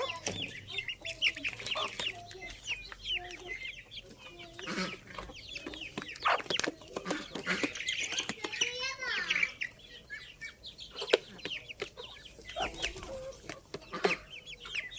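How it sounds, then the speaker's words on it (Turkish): Chickens cluck and chatter busily close by, with scattered chirps from smaller birds mixed in and no talking. "Tavuklarımız afiyetle yiyor."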